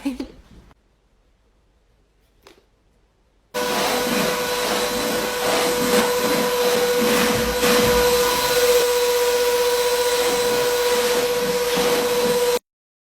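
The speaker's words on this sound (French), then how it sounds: "je vais passer un petit coup d'aspirateur parce que bon, il y a un petit peu de poussière." After a brief quiet stretch with a couple of small knocks, a vacuum cleaner switches on to pick up dust and runs loudly with a steady whining drone, then cuts off abruptly.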